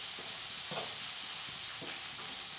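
Fenugreek (methi) is dry-roasted in a pan and stirred, with soft scraping strokes and a faint sizzle under a quiet steady hiss.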